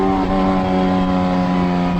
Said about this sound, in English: As you slow down, it just downshifts and crackles and pops and just makes wonderful noises.